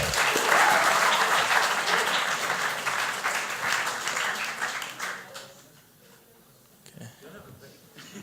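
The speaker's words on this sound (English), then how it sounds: "Please give him a big round of applause." An audience at a growth hacker talk applauds as the speaker is welcomed to the stage: dense, sustained clapping that thins out after about five seconds into a few scattered claps, with some voices underneath.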